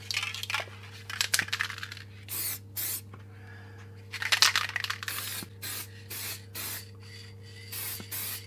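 Aerosol paint sprayed onto a Suzuki track bike engine casing in short hissing bursts, some longer and some brief, repeating close by over a steady low electrical hum.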